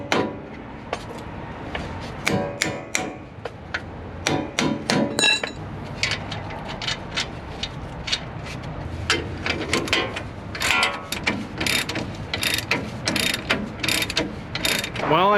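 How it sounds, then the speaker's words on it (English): Bolts go into a Bilstein front shock on a third-generation Toyota 4Runner during a suspension upgrade. A close run of sharp metallic clinks and taps mixes with ratcheting clicks, loud and irregular, with no talk. "now I'm just gonna insert the bolts and get it in"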